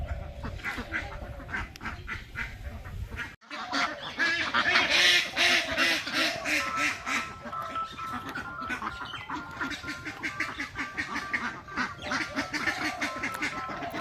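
A flock of ducks at a netted farm beside a canal outdoors keeps up a steady, close chorus of overlapping quacks and honks, with a brief break early on before the calling resumes.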